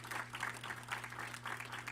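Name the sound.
audience clapping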